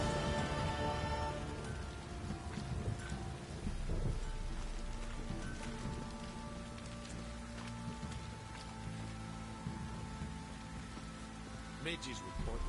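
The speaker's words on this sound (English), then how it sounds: "Midges reporting on account of this downpour." Heavy rain pours steadily in the video game The Witcher 3, a dense continuous hiss of downpour with faint rumbles, and a voice speaks over it.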